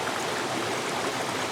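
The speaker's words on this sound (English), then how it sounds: "This is a waterfall right there." A small Nova Scotia waterfall rushes in a steady, loud, broadband wash of falling water, close by and with no voices.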